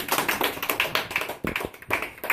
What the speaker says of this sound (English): So, claps.